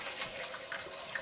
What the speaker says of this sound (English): I'm just straining the whole pot through.